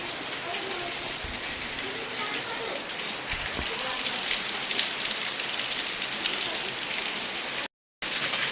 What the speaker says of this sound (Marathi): बघा पाऊस किती मोठा आहे खूप आवाज आहे